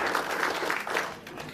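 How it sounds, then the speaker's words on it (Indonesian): Applause from an audience gathered at a talk, a short burst of clapping that holds steady for about a second and a half before thinning slightly. "Beri tepuk tangan buat Ibu Sumi."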